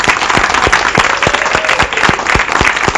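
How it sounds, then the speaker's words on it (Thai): A Thai school quiz show audience claps for a girls' school team, loud and close, with sharp individual claps ringing out in a quick, fairly even rhythm over a steady bed of applause. "ขอเสียงปรบมือ ให้กับทางฝั่งโรงเรียนสตรีนนทบุรีด้วยครับ"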